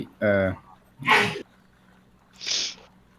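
A voiced sound followed by a sharp, breathy sneeze and then a softer exhale, with background noise and a short pause in between.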